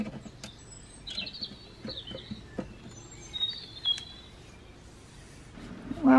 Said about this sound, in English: It's told me it's a blackbird, a robin, and a common chaffinch.